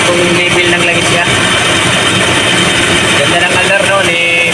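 A Toyota Revo with a 7K engine running at idle, a steady continuous mechanical hum with broadband noise, heard up close and unbroken throughout.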